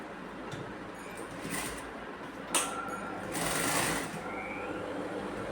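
Sewing machine stitching a churidar top, its needle running in a continuous close whir with brief surges and pauses as fabric is fed.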